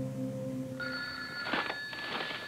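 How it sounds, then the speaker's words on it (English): An old-style telephone bell rings indoors in two short bursts, moderately loud against a quiet room with faint tones underneath, in a radio drama. "The phone."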